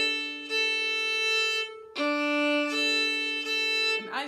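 Fiddle playing gypsy-style practice phrases with slurred notes in down-down-up bowing: a few sustained bowed notes in separate strokes with clear pitch changes, clean and close, with no talking.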